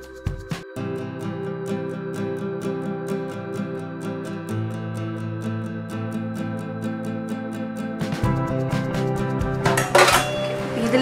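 Ground spice paste scraped from a grinder into a metal cooking vessel in a home kitchen, a busy run of clinks and metallic knocks from utensil on pot, with a harsher scraping burst near the end.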